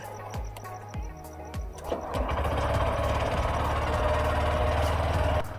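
A motorbike engine idles while warming up at dawn. A few sharp starting knocks come first, then it settles into a steady, close, rumbling chug with a fast, even pulse. No one speaks.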